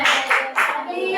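Schoolchildren in a classroom doing a rhythmic clapping game, short bright bursts of hand claps in a quick pattern, close and loud, mixed with young voices.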